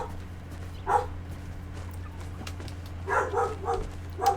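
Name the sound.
dog Rocky barking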